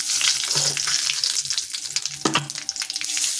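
Nigella seeds (black cumin) sizzle in hot oil, a steady broadband crackle throughout with a few brief spoon or pan knocks, close and fairly loud, with no talking.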